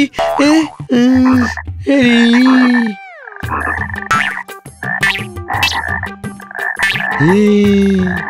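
A cartoon frog croaking loudly in drawn-out, wavering calls that come in several bursts with short pauses, close and dominant, set against a tonal musical backing.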